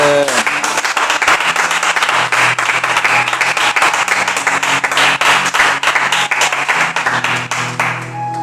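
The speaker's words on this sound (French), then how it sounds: "Acclame Jésus" A church congregation claps loudly and continuously, with rhythmic beats running through the applause and music or singing underneath.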